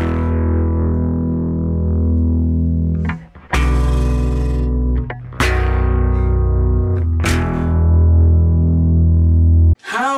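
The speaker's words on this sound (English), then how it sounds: "it's most likely bass with a clean sound playing chords" A bass guitar with a clean tone strums chords from the intro of a song, each chord ringing out and sustaining, about five strikes spaced a couple of seconds apart, no voices.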